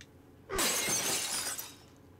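A pane of glass shatters in The Walking Dead: A New Frontier, Episode 4, a sudden loud crash with a bright, sustained spray of breaking shards lasting about a second before fading out.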